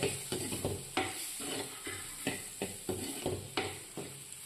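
Prawn curry masala with pepper powder being sautéed and stirred in a pan, with repeated scraping stirs over a steady sizzle, close and moderately loud, with no talking.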